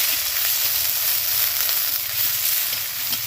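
Chopped onion frying in hot oil for leftover-rice dish, a steady bright sizzle with faint crackles holding at even loudness throughout, no voices.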